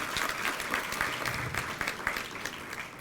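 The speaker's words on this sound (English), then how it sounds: "let's just have a round of applause for" A crowd at an induction event gives a round of applause, a dense, sustained clapping that stays fairly even throughout with no voices on top.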